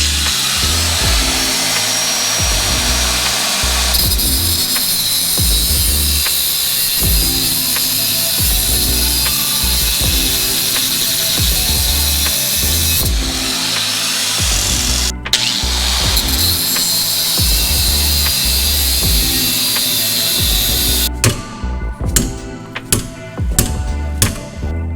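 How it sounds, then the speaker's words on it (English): Sawzall reciprocating saw cutting through a seized ball joint on a 2012 Subaru Forester during strut and lower arm replacement, loud and continuous harsh buzzing with metallic grinding, ending in a few short stop-start bursts. "so Sawzall it is."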